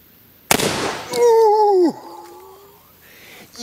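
A 12/70 Super Sabot shotgun slug fires into a ballistic gel block with one sharp, loud report, followed by a brief ringing tone that slowly fades.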